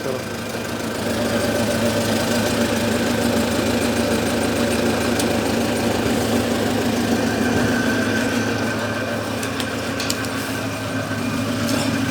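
A homemade generator engine runs near idle, a steady, loud, rumbling drone with a knocking vibration that holds evenly throughout.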